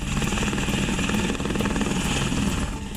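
Apache helicopters roar overhead during a Republic Day military parade, a loud, continuous rotor throb with rapid blade chop and a high turbine whine throughout.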